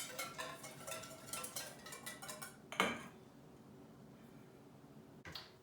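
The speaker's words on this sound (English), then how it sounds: "we'll whisk that together in our little bowl here" A whisk clinks rapidly against a small bowl while a sauce is mixed for fish, a quick run of metallic taps that stops abruptly, then a single faint clink after a pause.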